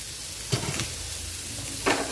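Sautéed vegetables dusted with ground black pepper sizzle softly in a pan, a continuous low frying hiss with two distinct scraping stirs about a second apart.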